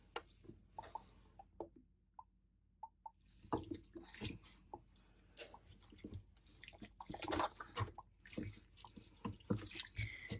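Water drips and squishes as a washing machine drains around a wet knitted triangle shawl, with irregular close splashes and sloshing that grow busier after a quiet stretch.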